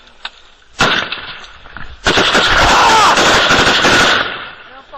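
Loud bursts of automatic gunfire in a tactical cover fire drill, a sharp shot near the start, then a sustained roaring volley of rapid rounds for several seconds before it trails off.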